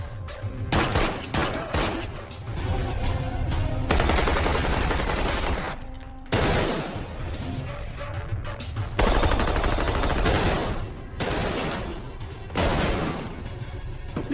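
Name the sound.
gunfire shootout in film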